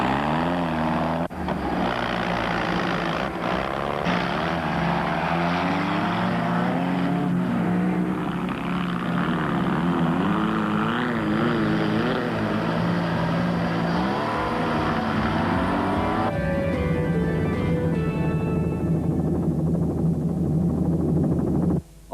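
Off-road racing vehicles at the 1988 Sun City 400 roar loudly and continuously, engines rising and falling in pitch as they rev and pass, with no talking.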